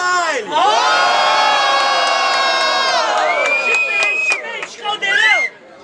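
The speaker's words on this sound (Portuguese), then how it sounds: "muito barulho pra quem gostou das rimas do Dubai" Loud crowd at a student rap battle final in Brazil, yelling and cheering together in a sustained wall of voices with rising whoops, fading out near the end.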